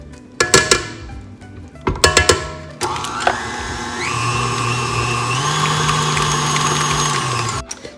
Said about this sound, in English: It only takes about 2 minutes for this to mix the butter and the shortening.